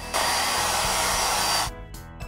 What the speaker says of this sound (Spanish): ¡Oh! El ventilador está funcionando.